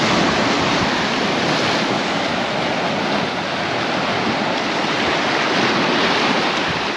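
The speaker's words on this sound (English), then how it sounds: "there's some quite big waves coming in" Big sea waves break on the shore at San Agustin, Mallorca, in a loud, continuous surf roar mixed with steady wind buffeting close to the microphone.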